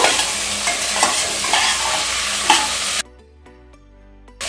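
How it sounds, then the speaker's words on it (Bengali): Peas stirred in a sizzling pan for pav bhaji, scraping and frying noise for about three seconds, then a brief near-silent gap before sizzling resumes. "আর এই মটর দিয়ে দিচ্ছি। নেড়ে নেব।"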